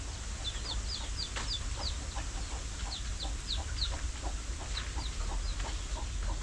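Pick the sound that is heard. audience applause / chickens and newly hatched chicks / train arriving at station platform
chickens and newly hatched chicks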